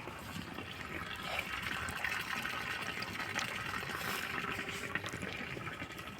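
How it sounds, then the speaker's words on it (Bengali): Water spilling from a pipe into a pond, a steady rushing gush heard at a moderate distance and fairly quiet, continuous and unbroken with no voices. "এই যে দেখো জল পড়ছে"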